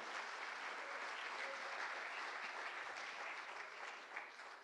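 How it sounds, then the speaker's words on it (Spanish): Faint, steady applause from a church congregation during a service, continuous and even throughout, easing off slightly toward the close. "Un aplauso a la gloria de Dios,"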